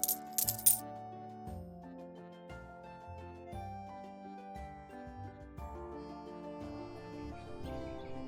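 Gold coins drop and clink in a quick bright burst at the start, then give way to a steady musical backing with no voices.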